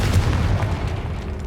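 The Confringo blasting spell detonates in Hogwarts Legacy, a dense rumbling boom with crackling debris that fills the moment and slowly fades, no voices over it.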